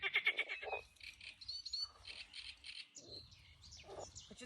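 Toads croak by a fishing lake, rapid rattling calls in repeated bursts that stand out close and clear over a soft low background, with no one talking.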